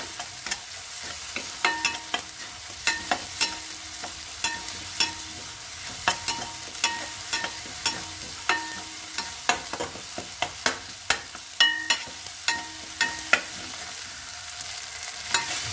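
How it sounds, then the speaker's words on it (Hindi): Tomatoes and spice masala fry in a pan for dhaba-style arhar dal, with a soft continuous sizzle under frequent sharp spatula clicks and scrapes from constant stirring, close up and without speech. "कंटिन्यू चलाते हुए इसे भून लें"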